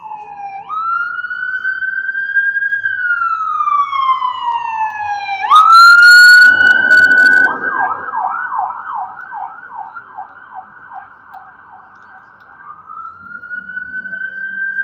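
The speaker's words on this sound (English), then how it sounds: "There's an ambulance coming." A loud ambulance siren wails nearby, sweeping up and down, then shifting into a rapid yelping pattern before returning to a long wail.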